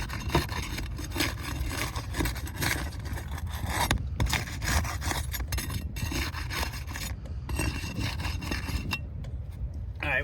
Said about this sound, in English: I need to unseal the adhesion between these shingles in order to get to the fasteners.